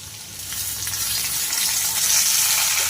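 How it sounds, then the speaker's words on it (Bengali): Potatoes fry with salt and turmeric in a pan, a continuous, even close-up sizzle and hiss that swells slightly toward the end. "নুন আর হলুদ দিয়ে আলুগুলোকে ভালো করে ভেজে নেব"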